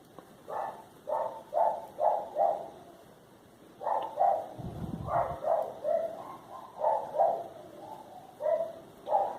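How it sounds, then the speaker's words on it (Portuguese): A small dog barks from a neighbouring house, a few yaps at a time in repeated bursts through the whole stretch, fairly distant and moderately loud, with a brief low thump partway through. "E o cachorrinho latindo aqui, lá na vizinha."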